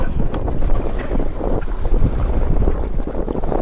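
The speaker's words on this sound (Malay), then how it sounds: "Angin." Strong wind gusts at sea on a fishing boat roar steadily into the microphone with water noise mixed in, loud and continuous and without talk.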